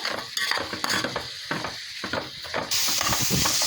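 Chicken sukka frying in a pan, with a steady sizzle and hiss, light stirring and utensil clatter against the pan that grows brighter and louder in the last second, no talking.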